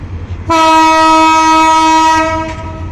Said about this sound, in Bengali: আস্তে ছেড়ে চলে যাচ্ছে ট্রেনটি